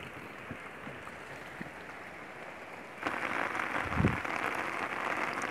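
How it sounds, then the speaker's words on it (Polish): Rain falls outdoors among spring plants, first as light scattered drops and then suddenly much heavier, a dense hissing patter that continues to the end, with one low thump partway through. "Pada coraz mocniej,"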